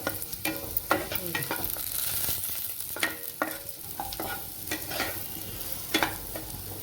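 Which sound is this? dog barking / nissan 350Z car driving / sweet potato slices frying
sweet potato slices frying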